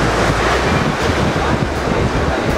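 Loud, close wind buffeting the microphone over the roar of ocean surf at a small secluded beach, a constant rushing wash with no clear speech.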